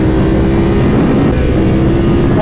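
A stage 1 remapped BMW F900XR motorcycle pulls away with a loud, steady engine roar and wind noise close to the microphone.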